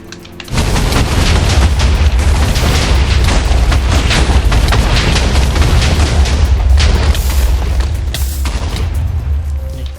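Dense, continuous barrage of rapid gunfire in a Minecraft Ben 10 mod with booming low end, loud and sustained for most of the clip after a brief quiet start.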